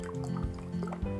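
Berry juice poured into a glass in a wooden kitchen, a brief gurgling trickle of liquid with small drips, quiet and close.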